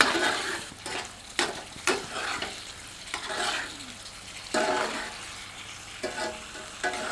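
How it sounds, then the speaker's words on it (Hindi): Green chillies and paneer frying in a pan over medium heat, a steady sizzle with repeated scraping stirs of a spatula, close and moderately loud with no talking. "मिलाकर 4 से 5 मिनट मध्यम आंच पर भूनते हैं।"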